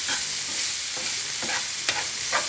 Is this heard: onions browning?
yes